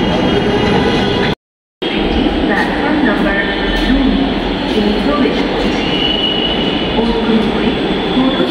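A metro rail train at a station platform at Secretariat station in Dhaka, heading for Uttara North: a loud, close rumble with wheel squeal, people talking in the background, and a brief dropout of silence early on.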